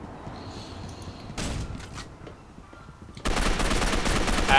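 Gunfire in the superhero shooter game Gotham City Impostors: a short loud burst of rapid shots, a quieter pause, then a sustained heavy volley of automatic fire that runs to the end.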